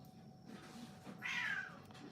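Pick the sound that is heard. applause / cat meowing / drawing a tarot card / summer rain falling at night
cat meowing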